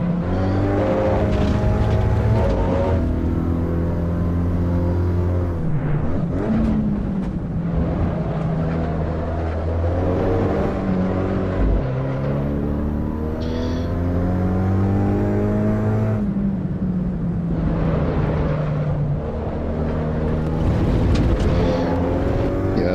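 Front-wheel-drive race car engine in the Assetto Corsa Evo racing game, loud and continuous, revving up and down through gear changes with steady droning harmonics, no voices.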